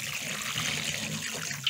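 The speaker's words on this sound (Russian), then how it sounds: "Так, вчерашнюю голубику также проливаю." Water poured onto soil to water freshly planted blueberry bushes, a steady close trickle and splash with no talk.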